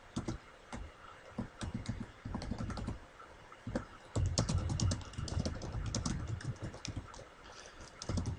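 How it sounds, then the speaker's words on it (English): Close keystrokes on a computer keyboard click in irregular bursts and pauses, some taps sharper and a few heavier thumps mixed in, with no talking over them. "let's type out what we figured out"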